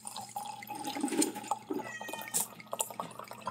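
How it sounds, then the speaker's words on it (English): Homebrew wine pours in a thin trickling stream during bottling, a quiet liquid splash and gurgle with a few light clinks and scattered background noises. "See if I can pour and film at the same time."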